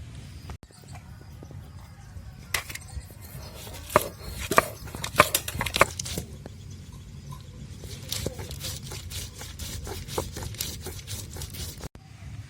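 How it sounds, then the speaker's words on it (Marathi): Chilli, peanut and salt masala ground by hand on a stone slab, giving rough scraping strokes with sharp knocks clustered in the middle, close and moderately loud, with a low steady background hum. "आता आपल्याला लगेच पाटेवरून वाटून घ्यायचंय"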